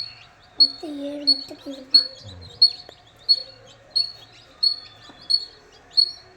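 Young Siruvidai chicks chirping close by in a regular series of sharp, high peeps about one per second, with faint low murmuring beneath.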